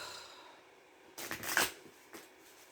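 A short burst of tarot cards being riffled and shuffled, crisp and close, with a couple of softer flutters afterward in a quiet room.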